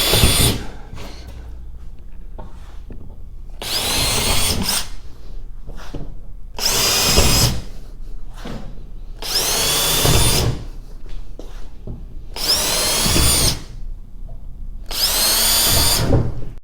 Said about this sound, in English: Drill a hole in each one of these.